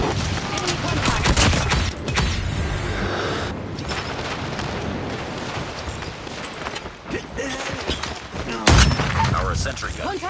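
Call of Duty Mobile gunfire and explosions in a nail-gun-heavy match: dense, continuous bursts of shots and booming blasts overlap for the whole stretch, with a heavy impact near the end.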